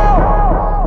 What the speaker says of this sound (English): there's something called analog delay